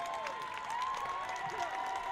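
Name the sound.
Pioneer fans applauding at field hockey championship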